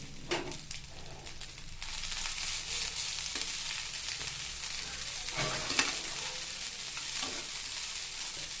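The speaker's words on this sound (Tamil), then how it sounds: "நல்லா தொலாவி கொடுக்கணும், பொழுன்னு போகிற மாதிரி." Ragi semiya (finger millet vermicelli) is stirred in a pan with salt, giving a steady dry sizzle and scraping with occasional louder spoon knocks against the pan.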